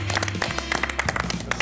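A brief, dense burst of audience applause at the end of a talk, steady and fairly loud over a low hum, lasting under two seconds.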